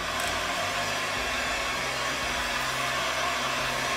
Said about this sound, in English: I'm gonna hit this with a heat gun just real quick while it runs away.